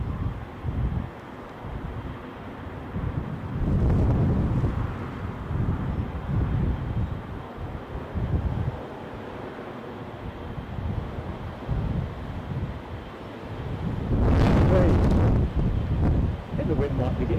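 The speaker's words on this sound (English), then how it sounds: "I think the wind might be getting stronger and slightly varying the direction." Strong gusting wind at Newcastle airport during Storm Kathleen, a loud continuous rumbling roar buffeting the microphone with surging gusts, including a heavier blast near the end; a voice talks intermittently over it.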